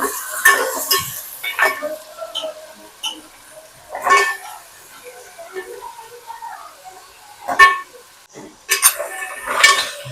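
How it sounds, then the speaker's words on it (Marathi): Crab tossed into hot oil over a crushed garlic tempering, with a faint sizzle beneath loud metallic clanks and scrapes of a spoon against the pan in irregular bursts, close and busy. "सगळं ह्याच्यामध्ये चिंबोरी टाकून दिलं लसणीच्या फोडणीवरती"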